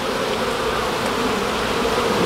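Honey bees swarm around an opened beehive, their dense, continuous buzzing close and loud, steady throughout with no talk.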